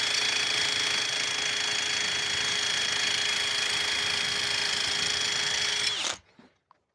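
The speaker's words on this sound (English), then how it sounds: "Got this blade clamped to the porch here so I can use my hands to sharpen and not have to hold it." A power tool grinds steadily against a mower blade clamped to a porch, a loud continuous whine with a fixed tone running for about six seconds before cutting off abruptly, followed by a few faint clicks.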